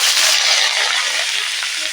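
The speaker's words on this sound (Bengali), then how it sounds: "তেল দিয়ে দিয়েছি শাকটা আমি কড়ায় ঢেলে দিই" Pumpkin greens sizzle loudly in hot oil in a wok, making a steady close hiss of frying that keeps going without a break.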